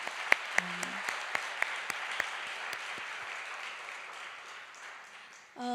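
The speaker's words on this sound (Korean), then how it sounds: "우리 다 같이 뜨겁게 한 번 더 박수로 주님께 영광을 돌릴까요?" Church congregation at a youth church service clapping in praise after a Christmas cantata, a few sharp claps at first, then a soft, distant wash of applause that fades before a sudden sound at the end.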